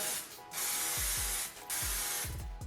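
Hair volumising spray hisses from an aerosol can in close, loud bursts, three long sprays separated by short pauses, with faint clicks of the nozzle between them.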